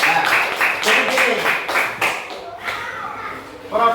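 A group of children claps along in a classroom setting, a quick rhythmic run of close hand claps that fades out, with voices mixed underneath.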